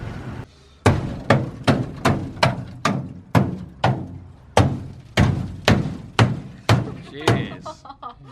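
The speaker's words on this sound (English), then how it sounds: "It's the first and probably only time I'm gonna let you take a hammer to my car" A hammer strikes a Ford Galaxie car body about a dozen times in a steady rhythm, each blow a loud hollow thunk ringing briefly, close by.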